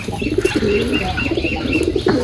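A male Giribaz pigeon and others in a pigeon loft on a winter morning coo repeatedly in soft, close, throaty bursts, mixed with a few light chirps.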